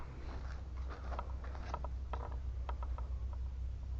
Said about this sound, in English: first thing we're going to do is get this lift all the way up, set it on the locks